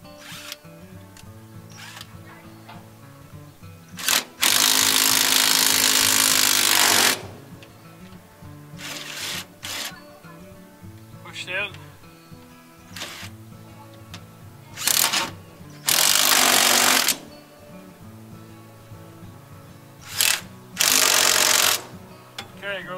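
A power tool tightens bolts on a John Deere combine grain tank liner in several short, loud whirring bursts separated by pauses, with quieter handling noises and occasional talk in between.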